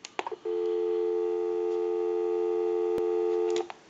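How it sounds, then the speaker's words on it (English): Dial tone on a Western Electric Trimline telephone: a few clicks as the handset lifts, then a steady continuous tone of about three seconds, ending with another click or two. "So we'll go ahead and give you some dial tone."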